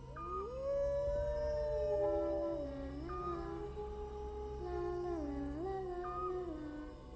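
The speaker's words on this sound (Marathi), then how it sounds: "कुत्र्यांचा भोकायचा म्हणजे खूप एकदम विचित्र आवाज एकदम" Several dogs howl eerily in long, rising and falling wails that overlap and waver, sounding in the middle of the night outside a door, loud and sustained with no talking.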